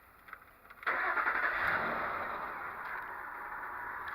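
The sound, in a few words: car engine starting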